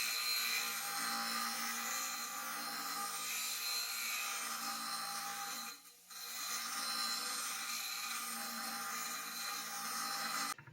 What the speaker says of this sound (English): Go to the grinder, just bevel the back.